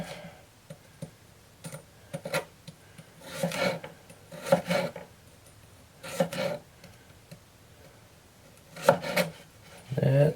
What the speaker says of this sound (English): And I'm going to start making thin slices.